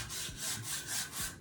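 Velcro-backed sanding mesh rubbed back and forth over wood for a scorch marker craft, a close, steady scratchy hiss swelling in about five even strokes with no voices.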